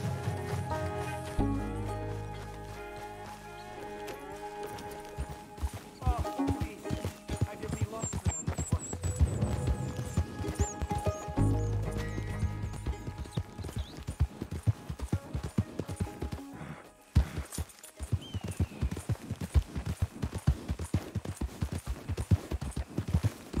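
Horse hooves clip-clop in a steady running rhythm in Red Dead Redemption 2, mixed into dense game music and effects, with occasional voices nearby.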